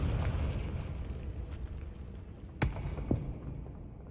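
A Confringo fire-blast spell in Hogwarts Legacy goes off as a sharp burst over a rumbling background, followed by a second smaller pop about half a second later.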